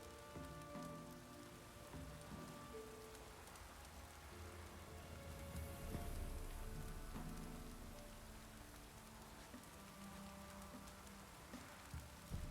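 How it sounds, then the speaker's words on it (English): Steady rain in the video game Witcher 3 patters on surfaces, a continuous dense hiss mixed with soft tonal background music, no voices. "Looks like rain."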